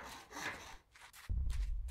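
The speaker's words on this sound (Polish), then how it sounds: "Ja już wyciągam piłę." A saw cutting through the metal of barn buildings in the video game Demolish & Build 2018 gives a rough, rasping scrape that drops into a louder, heavier grinding rumble halfway through. No one talks.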